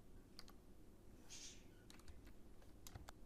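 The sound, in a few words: typing on a computer keyboard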